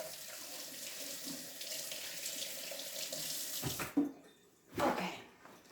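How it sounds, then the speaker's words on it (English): A kitchen tap runs steadily while hands are rinsed beneath it, the water flow breaking off near the end and then a short final splash as the tap is turned back on briefly. "Let me rinse my hands."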